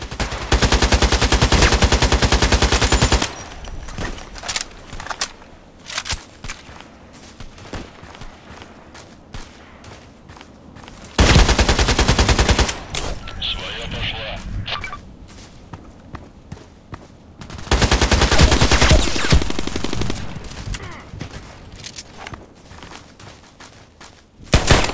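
Automatic fire from an AKMS rifle in the shooter game Contract Wars, loud and close, in three long sustained bursts separated by quieter stretches of scattered shots and footsteps.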